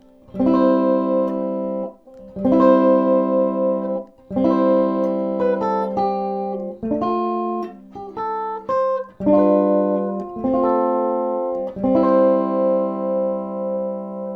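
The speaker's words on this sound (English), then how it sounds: "I might as well just plug an electric uke in and see if that works" Clean electric ukulele chords strummed and held through a bass amplifier, several ringing strums with brief gaps, bright and undistorted.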